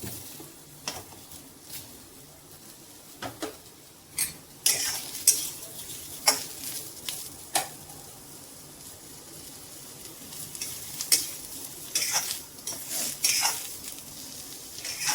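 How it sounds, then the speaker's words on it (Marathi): Onions frying in a pan for paneer masala, with a steady close sizzle under repeated scraping and clinking of a spoon against the metal as they are stirred; no talking. "आता कांदा भाजून घेऊ."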